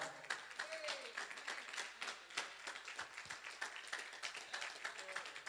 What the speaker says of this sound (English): Give him a big old hand clap